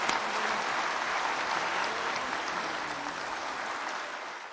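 A church congregation gives warm, enthusiastic applause to welcome an elder, the crowd's clapping forming a dense, even wash that runs throughout and tapers slightly toward the end, with no talking over it.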